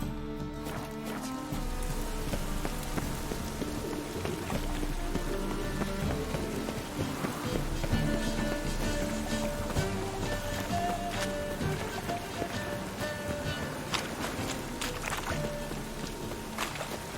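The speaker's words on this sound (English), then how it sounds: "Rain, I like rain." Steady rain falls in The Witcher 3 around Novigrad, a continuous even patter of drops on surfaces layered under a bed of game music and scattered faint thuds, with no voices.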